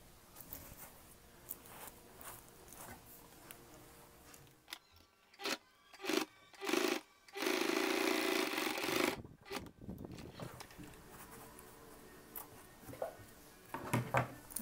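A domestic sewing machine stitches a seam on a fabric bag, with a few short bursts of close mechanical whirring and then one longer continuous run, set among quiet handling sounds.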